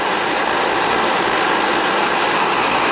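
A Svea 123 camping stove burner roars at full flame, a loud, steady, close broadband rush with no break or talk.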